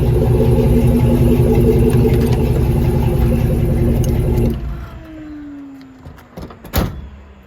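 A 1983 Chevy K10 with an LT V8 swap idles loud and close with a steady rumble, then shuts off about halfway, leaving quiet with a few clicks and a knock.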